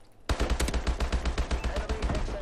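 Rapid, loud automatic fire from an HBER rifle in the video game Call of Duty: Advanced Warfare, a dense continuous burst of shots with heavy low thump, starting after a brief quiet moment.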